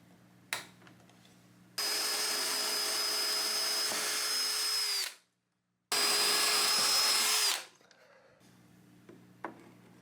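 A power tool bores bolt holes into clamped wooden benchwork for an HO scale model train layout, running in two long, steady bursts of about three seconds each with a short pause between, loud and close over a quiet room.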